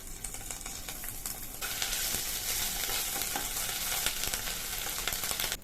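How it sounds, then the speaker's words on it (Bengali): Ginger paste fries in hot oil along with a tempering of dried chilli and black cumin, making a steady broadband sizzle that swells louder after the paste goes in, with faint stirring scrapes and no talk. "ওই তেলের মধ্যে আমি এক চামচ মতন আদা বাটা দিয়ে দিলাম"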